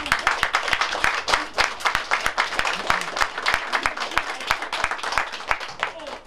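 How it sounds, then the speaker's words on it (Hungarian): An audience at a regional first-grade poetry recitation contest breaks into steady applause, many hands clapping together loudly and continuously throughout, with a voice briefly heard over it. "Tapsoljuk meg!"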